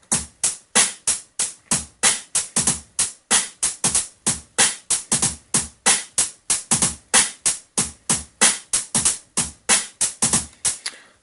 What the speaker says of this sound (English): And together they will make a drum beat sounding like this.